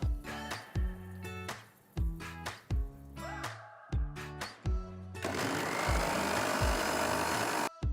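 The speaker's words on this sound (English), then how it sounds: "Cool the seeds and grind it to a nice fine powder." A kitchen grinder powders roasted sesame seeds, first in several short, loud motor pulses with brief gaps, then in a sustained, close whirring grind.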